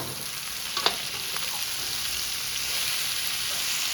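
Marinated capsicum sautéed with raw spice masala, ginger-garlic paste and cashew powder sizzles steadily in a pan, a close, continuous frying hiss with a brief stir clatter near the start.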